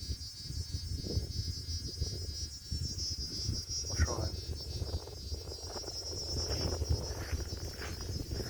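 An insect up a tree in Australia, probably a cricket, giving a loud continuous high-pitched two-tone electrical-sounding chirp, with wind and someone speaking briefly underneath.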